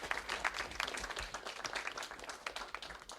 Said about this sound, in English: And clap for Gary.